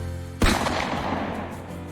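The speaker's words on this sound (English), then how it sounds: "The cannon roared, stones smashed into the walls, dust filled the air." A cannon fires once, loud and close, as the siege of Constantinople is portrayed, its booming blast followed by a long, rumbling decay.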